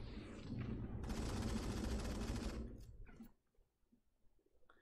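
A sniper rifle fires in a video game, one loud close burst of gunfire that rings out for about two seconds before fading to quiet.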